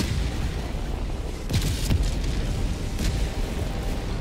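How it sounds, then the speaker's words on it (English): Orbital barrage in Helldivers 2, heard as a series of deep booms rumbling under a constant low roar of battle noise, with a few sharper bursts and no speech. "Orbital barrage."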